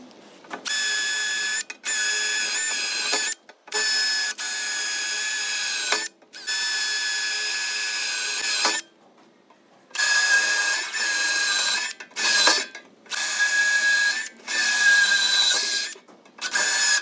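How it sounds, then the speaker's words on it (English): A rivet tool setting countersunk rivets into a boat's tackle box seat whirs in repeated mechanical bursts of a few seconds each, separated by short pauses, close and fairly loud. "Today I'm using a countersunk rivet to go nicely into there."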